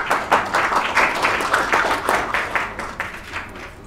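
Audience applause for a chef at an award ceremony, a dense, steady clapping that swells and fades over a few seconds, with no one speaking over it.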